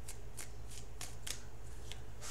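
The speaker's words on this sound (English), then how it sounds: "now I'm going to shuffle for the outcome card" Tarot cards being shuffled up close: a series of quick, crisp riffling bursts at irregular intervals over a low steady hum.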